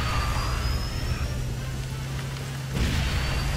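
Steady rain hisses in the KartRider video game on a rainy track, a continuous wash of noise over a low engine-like hum, with a brief swell near the end.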